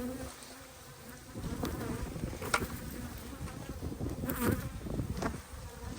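Many bees buzz around a feeder in a continuous, close hum, with individual insects droning louder as they pass near.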